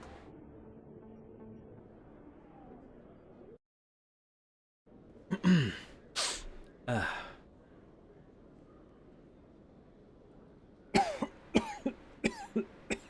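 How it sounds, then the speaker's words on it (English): A few sharp coughs in a short burst from a slightly sick gamer, then a quiet pause, followed by a rapid string of smaller coughs close to the mic. "I'm sorry for the coughing."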